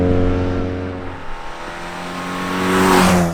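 An Opel Kadett GSI weighing 960 kg, driven hard, its engine droning loud and steady with harmonic tones, then rising in pitch as it revs up toward the end.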